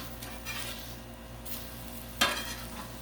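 A mahi mahi fillet is flipped on a Blackstone flat-top griddle, with a soft, steady sizzle throughout and one brief scraping clack of the spatula partway through.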